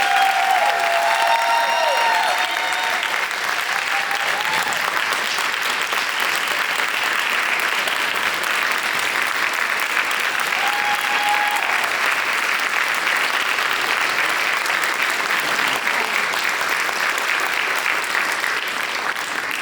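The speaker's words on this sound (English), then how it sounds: "Let's give a round of applause for all of our women tonight." Sustained audience applause at a women's storytelling show, a dense, steady wash of clapping from a large crowd that holds at an even loudness for the whole stretch, with a few faint cheers rising above it.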